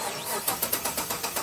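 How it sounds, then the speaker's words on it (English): A car engine cranks with about eight quick, evenly spaced bursts of the starter in under two seconds, close and fairly loud. "Let's start the engine."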